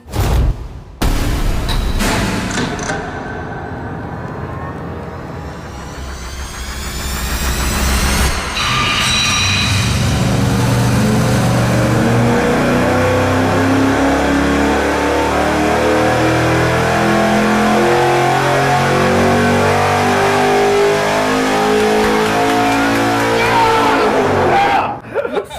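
A factory supercharged V8 with an undersized pulley for extra boost, on an engine dyno during a full-throttle pull: after a short blip, the engine roars and climbs steadily in pitch for over fifteen seconds, then cuts sharply back.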